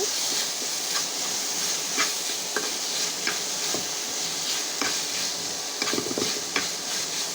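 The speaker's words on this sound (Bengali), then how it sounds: "তো আমি একটু ভালো মতন ভেজে নিচ্ছি" Patty filling with ginger garlic paste frying in a pan, a constant loud sizzle and hiss with occasional light taps and scrapes of stirring.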